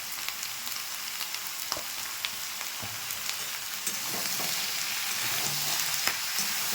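Bottle gourd pieces with salt and turmeric being stirred in a hot pan, a soft continuous sizzle broken by scattered scraping clicks of the spoon, fairly quiet and close, with no talking.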